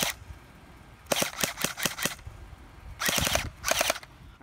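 A GFAP13 airsoft pistol fires BBs on full auto in several quick bursts of sharp, snapping shots: a single shot, a longer string of about six, then two short rapid bursts, close and loud against a quiet room.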